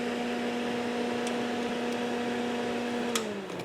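A Honda Civic radiator cooling fan runs with a steady whir and a constant hum. The fan slows and dies away near the end.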